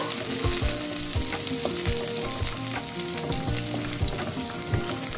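Onions fry in a pan until reddish-brown, hissing in a dense, continuous sizzle close up, with soft stirring clicks and scrapes scattered throughout and no voices.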